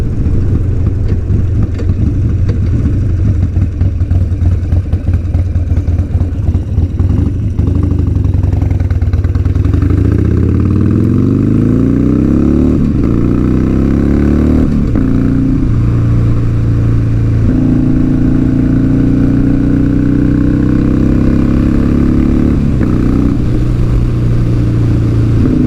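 A Harley-Davidson Sportster 1200 motorcycle rumbles at idle at a stop sign, then pulls away with a loud rising roar through the gears, recorded close from the rider's position with steady wind noise.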